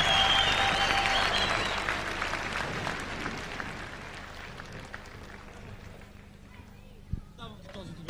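Audience applause for a singer at a live event, a dense burst of clapping that starts loud and gradually thins and fades over several seconds, with a few isolated claps and a voice toward the end.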